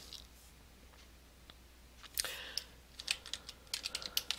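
Keys clack on a computer keyboard, quiet at first, then a run of quick, irregular taps close by, with no voice over them.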